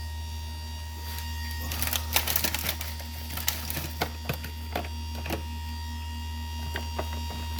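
Harbor Freight chainsaw sharpener grinding a chain tooth, a light scraping grind with several short contacts over a steady motor hum, close and moderately quiet.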